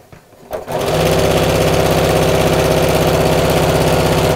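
A sewing machine stitches heavier outer fabric for a zipped coat hanger cover, starting after a brief pause and then running steadily with a loud, fast, even mechanical rattle close by, with no talking.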